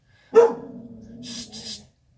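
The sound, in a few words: dog barking at a visitor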